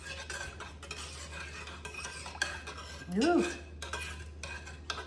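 A metal spoon stirs a blackberry and ginger mixture in a pot, with scraping clinks and knocks against the sides in irregular bursts, steady low hum beneath and a brief exclaimed voice.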